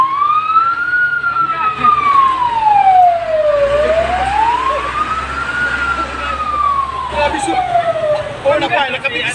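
A wailing fire truck siren rises and falls in slow sweeps as the backup fire engine arrives at a fire, loud and close over crowd noise, with people talking.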